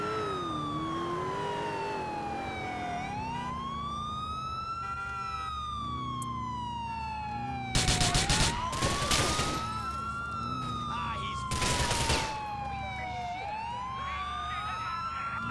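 Police sirens wailing in Grand Theft Auto IV, several rising and falling electronic wails overlapping steadily throughout, with two short loud bursts of gunfire or crashes breaking in midway.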